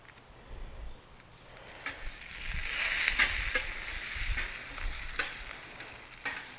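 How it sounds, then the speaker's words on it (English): Oil and butter sizzling on a Weber grill griddle for hibachi-style fried rice, a soft hiss swelling louder midway, with occasional spatula taps and scrapes, no talking. "a little bit of oil. And then also, we're gonna put some butter on there."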